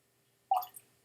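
A single drop of water falls into a glass of Balvenie 14 Peated Triple Cask Scotch whisky, a soft, close plop with a faint trailing drip in an otherwise silent room.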